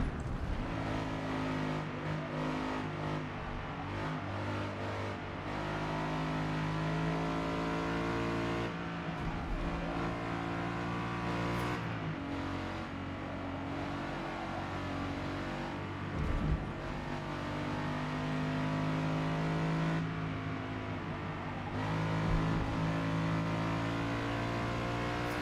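Race car engine in Forza Motorsport, in a race with German rival cars, revs hard and holds a loud, steady, harmonic roar, rising and dipping with brief gear-change lifts across the whole stretch.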